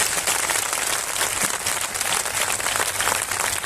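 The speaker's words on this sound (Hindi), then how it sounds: "ताली बजा के धन्यवाद।" A congregation claps hands at a Christian convention gathering, a dense, steady wash of applause filling the hall without a break, loud and close throughout.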